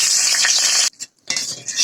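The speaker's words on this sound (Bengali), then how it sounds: "তেজপাতা ফোড়নটা দিয়ে দিলাম" A brief burst of sizzling as bay leaves are stirred in hot oil in a pan cuts out for a moment, then the sizzle and scraping resume.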